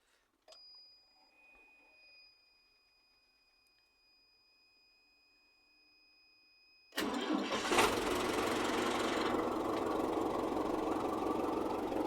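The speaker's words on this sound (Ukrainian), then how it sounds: "І зараз запустимо без свічок і реально подивимося, як він заведеться." An MTZ-82.1 tractor diesel starts in the cold at about minus five without glow plugs. After a quiet stretch with a faint electronic whine, the engine catches suddenly and settles into a loud, steady idle.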